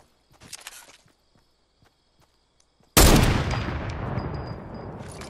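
A single loud sniper rifle shot in a video game cracks out after a quiet stretch of soft footsteps and clicks, then trails off in a long, fading echo.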